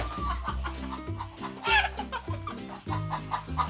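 A chicken on a farm clucks repeatedly and loudly up close as a family scrambles to catch it, with short rhythmic clucks and a sharper squawk midway over background farm music.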